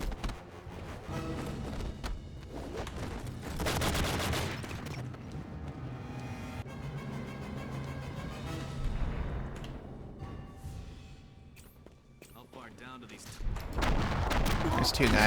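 Pistol shots from 92 FS handguns in Enter The Matrix on PC, played on hard difficulty, ring out in sharp bursts amid loud game music and effects, with a few isolated cracks near the end.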